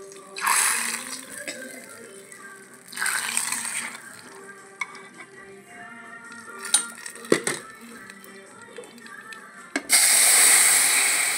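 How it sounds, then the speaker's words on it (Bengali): Hot tempering oil poured into a fish and winter-vegetable curry gives loud hissing sizzle bursts, with a sharp clink in the middle and a strong sizzle rising at the end, close and dominant. "এখন আমি সিধা তেলটা তরকারিতে দিয়ে দেবো, পুরো তেলটা আমি তরকারিতে দিয়ে দেবো।"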